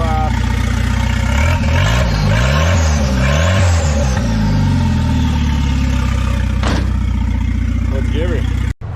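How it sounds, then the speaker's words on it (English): A car fitted with a Holset turbo revs hard while drifting, its engine note sweeping up and down in loud, sustained surges that close with a short sharp burst near the end. "Let's go do some drifts."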